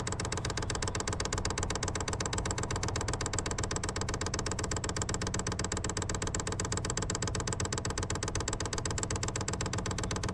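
New Temu diesel heater running on its first startup, a steady rapid mechanical pulsing hum with even ticking throughout, close and constant with no talking.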